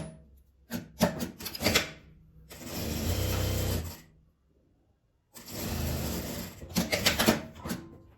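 Sewing machine stitching together strips of brown and blue tricoline cotton scraps, two sustained runs of close, loud whirring stitching broken by shorter start-stop bursts and pauses.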